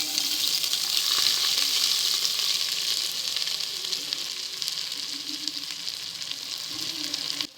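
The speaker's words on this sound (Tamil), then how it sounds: "செவந்த பிறகு நம்ம கட் பண்ணி வச்சுருக்கிற வெங்காயத்தை சேர்த்துக்கலாம்." Chopped onions fry with cinnamon and cloves in hot oil, a loud, steady close-up sizzle with occasional stirring scrapes and no voices.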